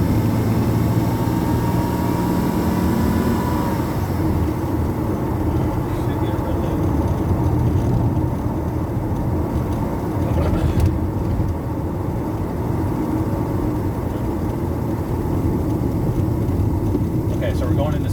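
Engine of a 2003 Porsche Boxster droning steadily while the car shifts into second gear, a continuous loud road and engine roar with a brief change mid-clip, someone talking over it.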